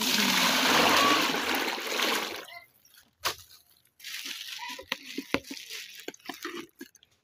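Water leaking from a container in a village home, a close splashing gush that fades, then scattered drips and small splatters.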